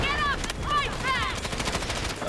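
Submachine gun fire in the Delta Force video game comes in short rapid bursts with distinct ringing shots, mixed with other game sounds.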